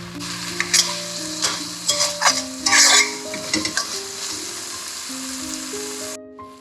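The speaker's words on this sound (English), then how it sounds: "we can hear the oil sizzling" Oil crackles and sizzles in a hot pan with masala for a Mangalorean pepper pork curry, with bursts of louder spitting and stirring scrapes, while soft music plays in the background.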